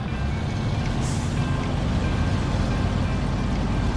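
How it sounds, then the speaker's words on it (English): Truck engine in SnowRunner hard mode, a steady loud low rumble that holds constant throughout without a clear start, mechanical hum dominating alone with no talk. "let's turn the engine on"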